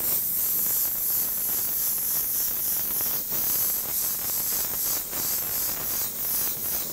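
Airbrush spraying candy paint, a steady high airy hiss with slight pulsing as the spray is pushed heavy and light, close and continuous.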